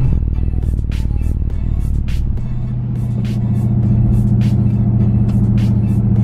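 A Dodge Charger Scat Pack's engine hums as the car drives, a deep steady rumble inside the cabin, with a shift in tone partway through and faint clicks above it.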